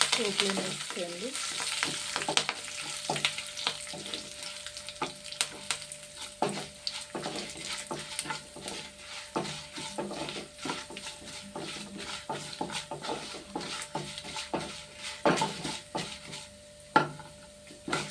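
Tempering spices frying in a pan, a steady crackling sizzle broken by frequent sharp pops and the scrape and clink of a utensil stirring, close and continuous.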